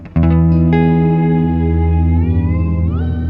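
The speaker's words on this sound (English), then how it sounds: "right now I've got the dream effect on, and so that's going to be a regular reverb." A guitar chord rings out through a Walrus Audio Sloer reverb pedal on its dream setting, sustaining and blooming into a long wash, with the tail pitching slightly upward near the end.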